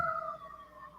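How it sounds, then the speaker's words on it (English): Emergency vehicle siren outside in a neighborhood, a wailing tone sliding down in pitch, moderately loud and slightly distant, heard alone without talk. "Who knows what them sirens really about?"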